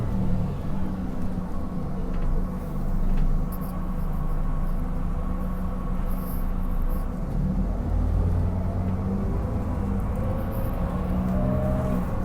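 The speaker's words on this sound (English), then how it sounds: "Bus turns right." A Transperth bus, fleet number TP1653, runs the route 250 Brookdale loop from Armadale Station. Its engine rumbles low and steady from inside the cabin, with faint rattles and no talking.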